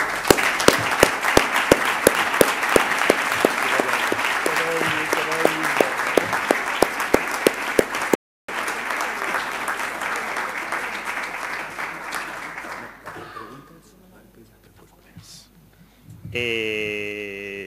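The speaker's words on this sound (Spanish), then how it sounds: "nos vamos a dedicar un aplauso muy grande para todos nosotros" A conference audience at a Spanish greenways anniversary session breaks into loud, sustained applause. Dense clapping fills the first eight seconds, then fades into quieter room noise and a brief tone near the end.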